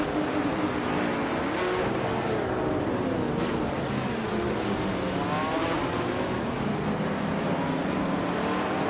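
A 1968 Ford P68 racing car engine roars steadily and loudly throughout, a continuous dense drone with shifting pitch as it accelerates and changes gear, with other race cars in the mix.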